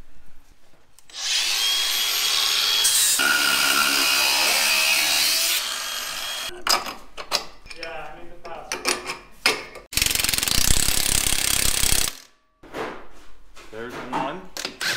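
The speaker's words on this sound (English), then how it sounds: "So I'm gonna grind those off really quick." An angle grinder cuts off bolts on a Jeep in a garage, a loud sustained grinding whine for several seconds, then short bursts of clatter and handling noise, another loud grinding pass, and someone talking between the cuts.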